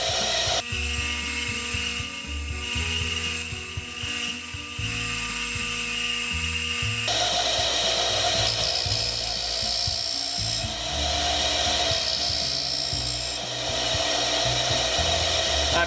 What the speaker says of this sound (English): You can see that the back edge of the drill is being ground away.